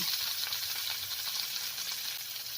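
Kangkong stir-frying in a pan with oyster sauce gives a steady, close sizzling hiss that holds evenly throughout, with no voices over it.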